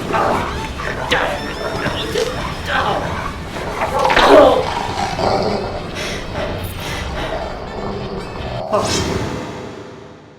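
A dog barks and yips in the horror video game Red Seeds Profile, sharp repeated barks mixed with whooshes and impacts, while a character shouts over the commotion.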